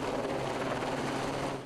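A helicopter working above a woods fire near houses gives a steady, dense rotor and engine roar, continuous and fairly loud without a break.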